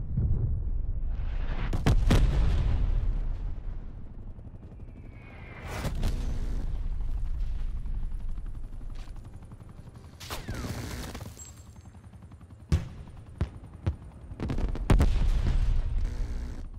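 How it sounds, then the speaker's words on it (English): Artillery strike in Call of Duty Black Ops Cold War, a run of heavy booming explosions with rumbling low-end tails and sharp cracks of gunfire between them, loud and continuous. "Artillery targeting detected."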